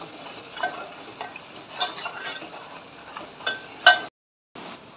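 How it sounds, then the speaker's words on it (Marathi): Spice powders stirred into chicken curry in a pan, with a spoon scraping and clinking in an uneven rhythm over a soft sizzle, close and moderately loud, and a short pause near the end. "आता छान प्रकारे मिक्स करून घेऊया।"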